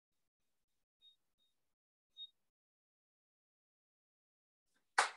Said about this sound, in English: when I set the digital timer and press enter